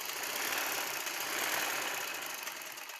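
A sewing machine stitches the sleeves of a baby summer frock with a steady, fast mechanical whirr and rattle that runs continuously for a few seconds, close and moderately loud, with no talking.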